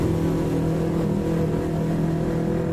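A Yamaha MT25 motorcycle engine drones steadily on a morning ride, holding a sustained mid-pitched rev with a strong, close, continuous tone and no talk.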